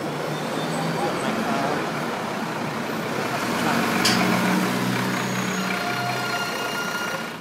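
A car engine runs steadily while the car is driven and parked, with a truck or bus rumbling nearby and traffic around. A reversing beep sounds in the middle, and a voice talks at points over the hum.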